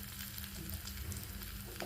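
Garlic and dried chillies crackling in hot oil for a tempering, meant for a mango and dal dish, giving a close, steady sizzle and spatter with no talk.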